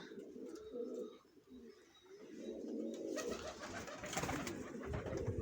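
Pigeons in a breeding loft, some pairs sitting on eggs, keep up a soft, continuous low cooing with a few faint chirps mixed in.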